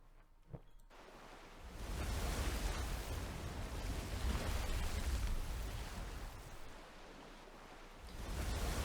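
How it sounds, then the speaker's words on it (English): In the video game Punishing Gray Raven, a water curtain lifts with a broad, rushing wash of noise like heavy falling water or surf that swells after a brief quiet start and holds steady throughout. "As the water curtain lifts"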